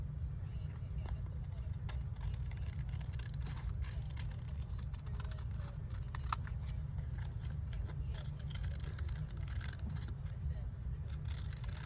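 Scissors cut around an oval paper embellishment for a beach-themed junk journal, giving a run of small crisp snips over a steady low hum in a quiet room.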